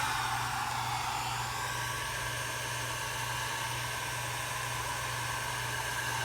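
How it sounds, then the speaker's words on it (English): A heat tool blows steadily on its low setting, a soft continuous airy whoosh with a faint motor hum underneath, close and unchanging throughout. "I'm going to blow it out a little bit and then turn the low heat setting on it"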